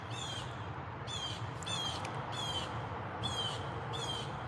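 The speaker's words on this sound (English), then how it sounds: "The birds are out here chirping." Birds calling outdoors on an evening, a harsh repeated call arriving about once a second over a steady background hiss.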